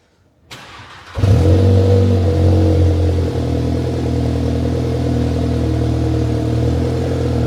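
A Volkswagen GTI fires up after a brief quiet moment, then its engine settles into a loud, steady drone with a low hum, running smoothly and continuously with no talk.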